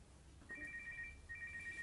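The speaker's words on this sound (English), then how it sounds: "Which phone is that? That's the second time it's gone off." A mobile phone ringtone goes off in a sports show studio: two bursts of quick, even electronic beeps separated by a short gap, moderately faint over a low background hum.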